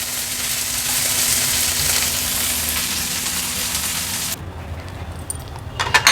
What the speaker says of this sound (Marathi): हाय फ्लेमवर फक्त एक अर्ध्या ते 1 मिनिटासाठी हे परतून घ्यायचे।